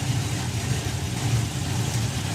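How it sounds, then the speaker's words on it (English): A nitro-fueled supercharged Chevy drag racing car's engine rumbles with a steady, heavy low throb, loud and continuous with no voices. "So Bob Hawkins with a bit of nitro in the supercharged Chevy"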